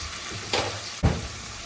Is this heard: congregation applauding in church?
no